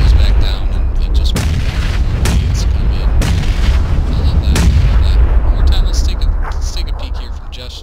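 Grenades burst in a game firefight, heavy booms and sharp blasts repeating over a constant low rumble, loud and close throughout.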